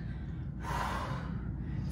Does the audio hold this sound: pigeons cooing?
no